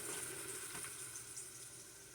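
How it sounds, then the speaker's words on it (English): Water drains steadily out of a small washer used for doll clothes, a continuous close hiss and splash that keeps an even level throughout. "Drain out the water."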